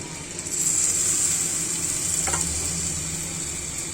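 Onions fry in a hot pan with a little sour yogurt added, a dense steady sizzle that swells and then holds, close and loud with a brief clink partway through and no voices.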